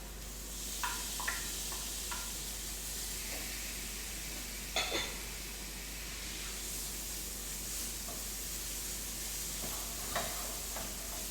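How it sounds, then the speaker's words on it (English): Ginger and garlic sizzling in a frying pan with steak juices, a steady loud hiss and crackle with a few scraping stirs, no one talking. "Now to that I'm going to add my ginger and my garlic."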